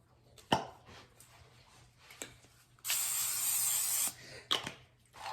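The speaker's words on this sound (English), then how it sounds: "I forgot to spray the parchment paper with the nonstick spray" Nonstick cooking spray hisses onto parchment paper in one steady burst of about a second, close and loud, framed by scattered clicks and handling knocks of kitchen prep.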